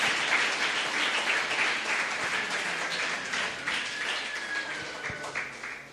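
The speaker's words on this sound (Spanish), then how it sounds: "Un aplauso para este personaje." Audience applause during a dramatized Bible sermon, steady dense clapping that keeps up for the whole stretch at moderate loudness, with a faint whistle or tone running through it.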